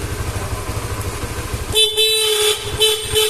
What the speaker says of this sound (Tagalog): Ito yung pinaka stock horn.